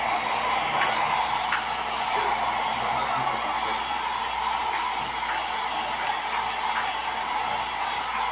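A hair dryer runs steadily throughout, a constant airy whir with a faint motor hum, close and unbroken, with no talking.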